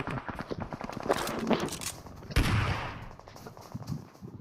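Gunfire in the mobile battle royale game BGMI, a sharp burst of shots around the middle amid scattered cracks and footstep-like clatter, fairly close.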